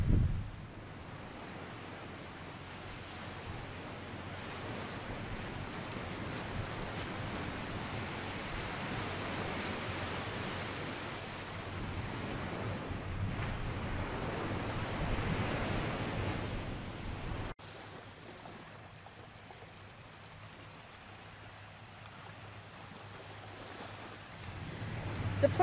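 Surf along the Florida coast, a steady broadband wash of waves rolling in with some wind noise on the microphone, continuous and moderately loud, dipping briefly near the end, with no voices.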